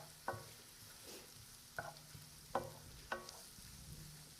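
Chopped shallot sautés quietly in a pan, a faint, low sizzle broken by four sharp utensil taps and stirring scrapes against the pan.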